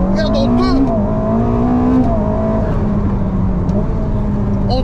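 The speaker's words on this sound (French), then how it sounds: "C'est la Ferrari la plus puissante de l'histoire." The most powerful Ferrari ever built accelerates hard, its engine note climbing as it pulls, loud and close, with a person talking over the roar throughout.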